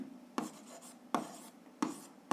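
A pen writes on paper while algebra work about linear functions is noted down, three distinct scratchy strokes at a steady rhythm, close and fairly quiet, with no talking.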